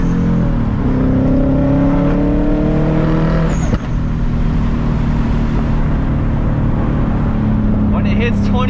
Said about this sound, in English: When it hits 22 and you let off, it makes the craziest sound.